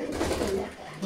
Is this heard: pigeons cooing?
yes